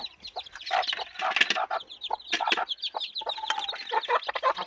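A mother hen clucks steadily near her chicks while they feed, with busy overlapping clucks and chirps sounding close and fairly loud throughout, and no speech.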